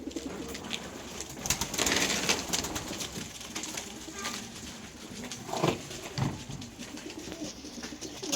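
Tumbler play pigeons cooing in a loft, repeated low throaty coos overlapping with rustling and wing movement, fairly close.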